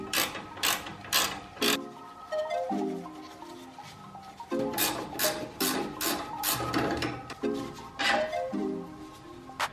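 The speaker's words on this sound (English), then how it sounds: "All we're going to have to do is loosen this nut, so I'm going to use my ratchet wrench for that" A 17mm ratchet wrench loosening a sway bar link nut on a Tacoma's front suspension, with quick, close bursts of ratchet clicks and metallic turning between brief pauses.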